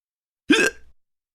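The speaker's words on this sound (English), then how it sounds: "Yep, that's a hiccup." A single clear human hiccup, a short sharp gulping catch of breath, heard alone against silence.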